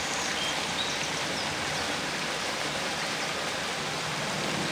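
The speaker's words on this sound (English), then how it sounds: "Listen to the water and the birds." Steady broadband rush of river water on the Green River in Washington, continuous and fairly loud at close range; no distinct bird calls stand out over the flow.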